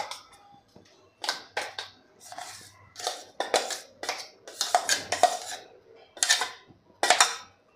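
Paneer and cashew mixture tipped into a pan of milk over a low flame for a sweet, heard as a series of sharp metallic scrapes and clinks of a spoon against the pan, irregular and close, with no talking.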